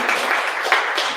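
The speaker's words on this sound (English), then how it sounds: "big round of applause for Dave" A conference audience gives a brief burst of dense, steady applause, heard close and loud throughout.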